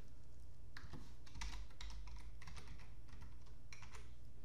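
A Wi-Fi password is typed on a computer keyboard, a steady run of close, crisp key clicks over a low hum.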